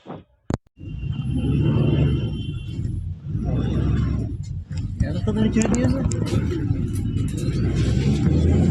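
A bus pulls away and drives off, its engine rumble rising quickly after a short pause and then holding as a continuous, loud, low drone with rattles, while voices carry on over it.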